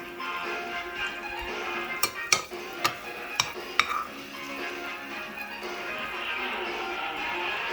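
Steak and onions lifted from a skillet onto a plate: a handful of sharp utensil knocks and scrapes, fairly close, over a steady background hiss.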